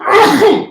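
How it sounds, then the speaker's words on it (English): A single short, loud sneeze, close up, with a voiced burst that rises and falls. "Had a reflexive sneeze."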